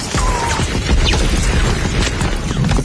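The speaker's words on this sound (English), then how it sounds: "the sounds of bullets, explosions, and screams add a lot" Dense, loud battle noise from the war film Saving Private Ryan: booming blasts, gunfire and crashing impacts pile up continuously, with sharp bursts scattered through a thick rumbling din.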